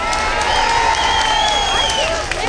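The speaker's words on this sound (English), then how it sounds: "And another round of applause for Stephen." A crowd at an outdoor rally on Glasgow Green claps and cheers loudly and continuously, with whoops and shouts rising above the sustained applause.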